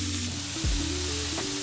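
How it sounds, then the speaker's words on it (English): Aromatics and spices sautéing in hot ghee give off a steady, close sizzle and frying hiss, with a brief low stir or pan movement partway through. "we're just gonna saute all our aromatics in some ghee along with some spices."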